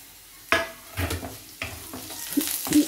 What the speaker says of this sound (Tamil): கருவேப்பிலை ஆட் பண்ணி லைட்டாக வதக்கிட்டு